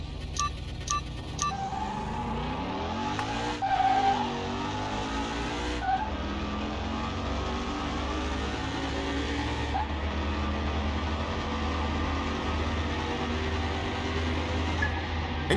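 Engine of a drag car in Car Mechanic Simulator 21 making a quarter-mile run on a four-speed, revving steadily through rising and falling gear pitches with a brief tire squeal, loud and continuous without talk.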